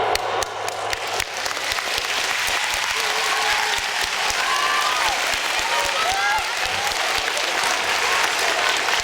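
A hall of parents and children at the Thiviers middle school applauds after a radio link with the International Space Station. The clapping is loud and continuous for several seconds, with faint whistles and cheers rising within it.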